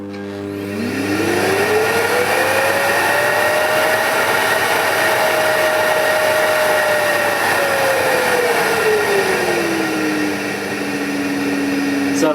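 Hoover Dustmanager bagless/bagged cylinder vacuum cleaner turned down to its lowest power, a loud steady motor whine that dips in pitch as the setting drops, running continuously close by without talk.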